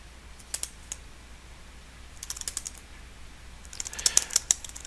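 Bursts of clicking keystrokes on a computer keyboard as numbers are typed into a network router command line, three quick clusters with short pauses between them, close and fairly quiet, no talking.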